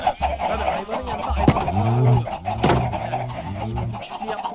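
Chickens cluck repeatedly in a Minecraft farm, a string of close, fairly loud game clucks and squawks with a few sharper calls mixed in.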